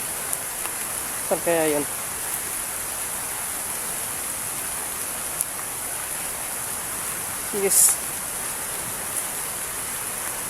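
Very heavy rain pours in a steady, dense hiss that runs the whole time, while voices speak briefly over it now and then.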